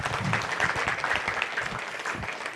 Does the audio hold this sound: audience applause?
yes